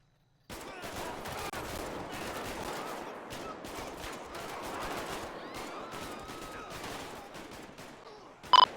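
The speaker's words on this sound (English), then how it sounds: "Shots fired, shots fired." Rapid gunfire in the GTA V police mod LSPDFR during a night shootout, dense bursts of shots crackling continuously for several seconds, ending with a sharp short beep.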